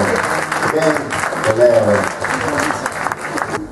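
Big round of applause from the audience at an evening film festival event, steady broadband clapping filling the clip while people talk over it.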